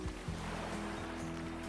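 Ocean waves wash steadily as a dense, continuous roar of surf, with a sustained low tonal drone running beneath it throughout.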